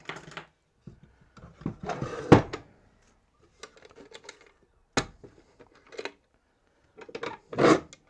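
A knife splits and rubs down wood for a cope-and-drag sand-casting molding box, giving close, irregular bursts of scraping and rasping separated by short quiet gaps, with a sharp crack or two and no talking.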